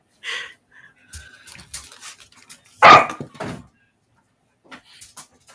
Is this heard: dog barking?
yes